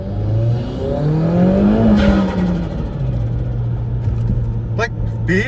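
Tuned Opel Astra 1.6 GTC with a fully built engine accelerating hard, its loud engine note climbing steadily through the revs with a brief dip, close and continuous throughout.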